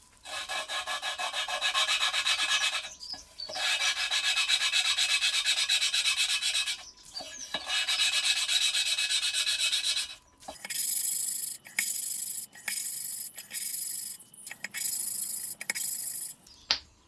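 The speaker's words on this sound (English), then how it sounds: "But for now, just the lapping needs to be done. This is achieved with valve lapping compound." Engine valves on a 43-year-old British garden tractor lapped in with valve lapping compound, a loud continuous gritty rubbing in long strokes that turns into shorter, choppier bursts with brief pauses and a knock at the end.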